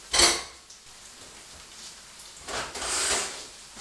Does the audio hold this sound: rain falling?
no